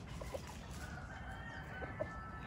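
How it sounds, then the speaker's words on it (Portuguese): Farm rooster heard faintly in the background on a rural property in Mato Grosso, with a couple of soft clucks or short calls over a low steady ambient murmur. "Um galo que não tem pena, só pelo"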